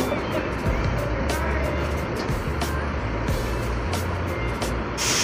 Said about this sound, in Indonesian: Ada bus Harapan Jaya patas datang ya ini pukul 10 lebih 18 menit